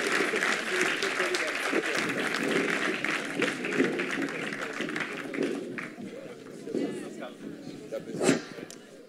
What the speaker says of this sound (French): Et merci de les applaudir.